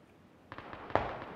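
Gunshots in a squad battle royale video game, heard as a few sharp, distant cracks followed by one louder, closer report and then faint echoing pops.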